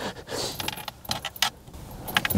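Close, bright metallic jangling of a bunch of car keys — ignition, door and trunk keys on one ring — in several clinking bursts, with no talk.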